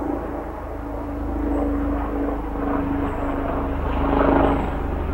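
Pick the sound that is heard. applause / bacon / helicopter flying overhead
helicopter flying overhead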